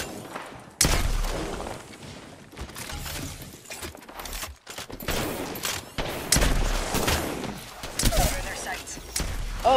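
Bursts of gunfire from the video game Apex Legends in a new movement mode, close and loud with sharp repeated shots, thumps and rapid volleys breaking through talk.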